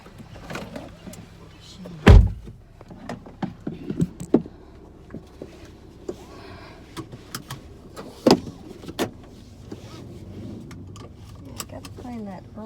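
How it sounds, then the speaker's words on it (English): Car door shut with a single firm thump near the start, then smaller clunks and handling noises inside a car, with people talking quietly throughout. "I gotta close the door"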